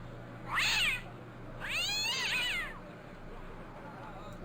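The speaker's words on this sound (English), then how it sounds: "What about the cat?" Two distinct meows from a cat in the Broken Sword adventure game, the second longer and wavering, heard fairly close over a quiet background hum with no talk.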